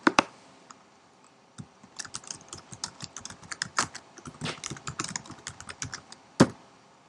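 Fingers type a comment on a computer keyboard, producing a steady run of crisp, close key clicks in uneven bursts with a louder tap near the end, no talking.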